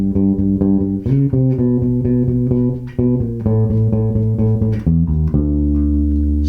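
An electric bass plays a simple practice line built on two-note transition fills, moving between chords with short approach notes; the notes sound loud and clear, steady in rhythm, with no talking.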